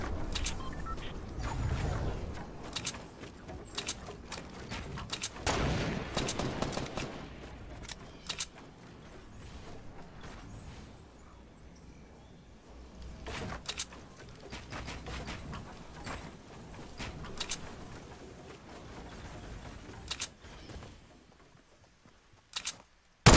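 Sniper rifle shots crack out sporadically in a Fortnite Battle Royale match, a handful of sharp reports spaced several seconds apart among softer game effects and footsteps.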